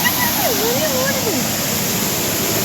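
Kudaganar river waterfall at Pithalaipatti gives a steady, dense roar of rushing water, loud and unbroken, with a brief whistling or voice-like tone sliding over it early on.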